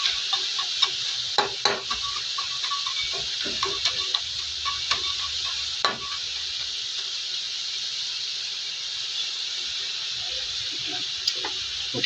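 Kikiam fries in a pan of hot oil, a loud steady sizzle with occasional pops and crackles and no talking.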